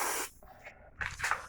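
Short hissing bursts of insecticide spray aimed at termites, two quick close sprays with a small gap between them.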